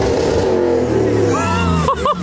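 A Lamborghini Urus Mansory's engine revs briefly with a loud, close, rising growl while people talk over it.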